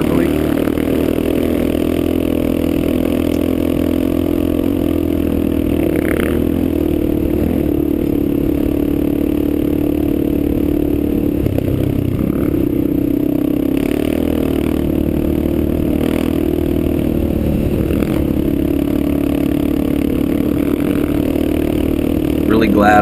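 A Kawasaki KLR650 motorcycle riding a muddy road in spring thaw: a loud, constant engine drone with rattles and scrapes throughout, and a voice partly over it.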